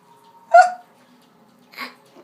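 Cartoon hiccups of Donald Duck, two short squeaky hiccup bursts about a second apart, fairly loud and close with near silence between them.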